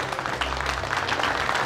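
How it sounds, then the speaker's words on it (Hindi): An audience breaks into applause, a short burst of dense clapping that stays steady and fairly loud throughout. "सब लोग ताली बजाओ।"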